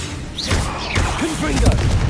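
The Levioso levitation spell is cast in Hogwarts Legacy: quick swirling whooshes and rising chirps, followed by soft thuds amid busy combat effects.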